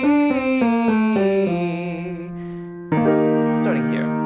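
A singer does a lip trill exercise over the vocal break, voicing a buzzing tone that steps down through several pitches before releasing onto a held E, sustained and fairly loud with a brief breathy rush near the end.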